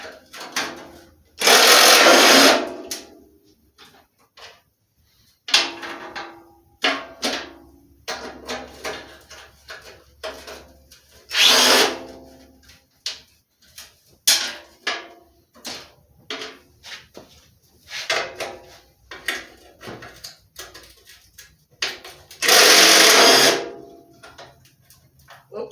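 An impact wrench removing bolts from a 1970 Bolens Husky 1253 garden tractor, in several loud, short, rattling bursts separated by quiet handling clatter, close up with no talk.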